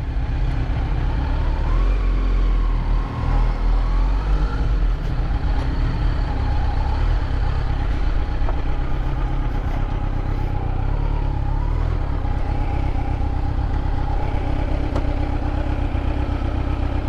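A Kawasaki Z900 motorcycle with a custom exhaust idles steadily close by, a loud, even low rumble that holds without revving for the whole stretch.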